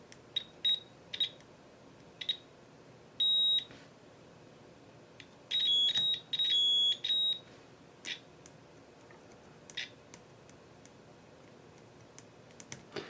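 A multimeter gives short, high continuity beeps while capacitors are tested on a Nintendo DSi XL circuit board, scattered singly and in quick clusters, some held a little longer, over faint clicks.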